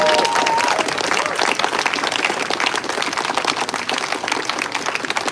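Rally audience applauding at a peace rally, a dense, loud, continuous roar of many hands clapping, with a faint whistle-like tone briefly near the start.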